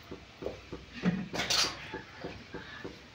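A kadai pan set down on a kitchen stove, a few light metallic clinks and one brighter clatter near the middle, faint and close with quiet room noise around it.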